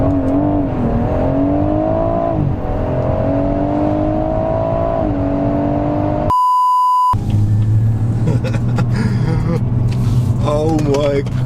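A stage 1 tuned BMW M140i accelerates hard on a run, its engine note climbing steadily through the gears as a loud, close rumble inside the car. A short electronic beep cuts in partway through, and people talk over the engine.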